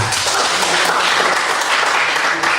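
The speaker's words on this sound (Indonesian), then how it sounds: "Oke, tepuk tangan semua." Applause from a class of students in a school setting in Merauke, a loud, continuous burst of close clapping that fills the whole moment without pause.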